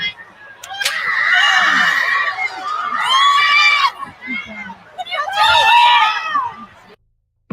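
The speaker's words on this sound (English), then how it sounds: "Those screeches we hear are the wife of the firefighter" A woman, the wife of a firefighter, lets out loud, shrill, wavering screams in three long bursts, with crowd noise and commotion underneath.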